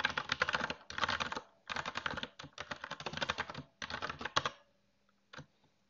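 Rapid clicking keystrokes on a computer keyboard come in several quick bursts separated by brief pauses, close and fairly quiet, ending with a couple of isolated taps.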